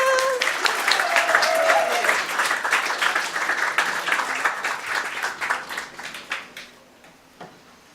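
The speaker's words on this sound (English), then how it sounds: "Big round of applause for Christopher" A big round of applause from an audience at a storytelling evening, loud and full at first, then thinning into scattered claps and tailing off into near-silence.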